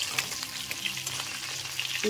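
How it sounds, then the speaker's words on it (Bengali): Fish sizzling steadily as it fries in a pan of oil, a continuous crackling hiss with a soft clatter near the end as the pieces are flipped over; no voices. "মাছগুলো আমার ওপিঠটা ভাজা হয়ে গেছে। উল্টে দেবো।"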